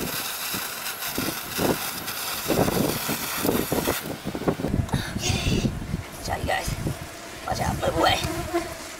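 Honeybees buzz loudly and continuously around a hot knife as comb is removed from inside a wall, a dense swarm drone with someone talking over it.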